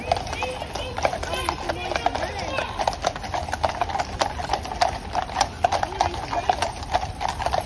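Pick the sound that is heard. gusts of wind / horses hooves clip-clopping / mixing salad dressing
horses hooves clip-clopping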